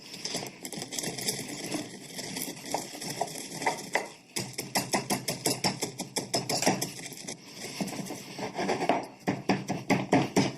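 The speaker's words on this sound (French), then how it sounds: "J'ai ici des pistaches dans le mortier. Et on va les écraser." Pistachios crushed in a mortar with a pestle: a loud, close run of rhythmic pounding knocks and gritty grinding, brief pause midway, then continued fast thumping, no talking.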